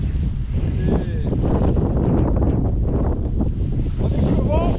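Strong wind roars steadily into the microphone beside a river during a fishing session, a loud continuous buffeting with faint water and background sounds underneath.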